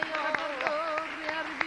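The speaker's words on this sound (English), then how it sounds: "Let's give the Lord a clap offering." Church congregation at a 1988 Wednesday evening revival service giving a clap offering, several sharp, separate claps ringing out at uneven intervals over sustained singing or speech.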